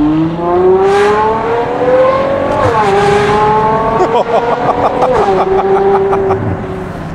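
A Ferrari Purosangue V12 fitted with a Novitec exhaust revs loudly and close, engine pitch climbing through gears with sharp shift breaks and crackling pops, heard from inside the car.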